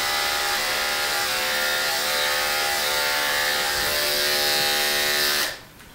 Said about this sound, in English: Shaving his whole tail.